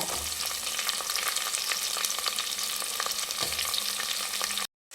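Onions frying in a pan for a Karnataka-style sambar, a steady close sizzle with a few soft stirring scrapes, running continuously before cutting off abruptly at the end.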